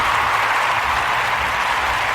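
Steady, dense applause at a constant level for a basketball podcast, a continuous wash of clapping with no pauses or voices.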